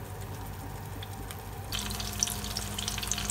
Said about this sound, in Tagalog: Hintayin lang po natin maprito ng husto ang itlog bago po natin baliktarin.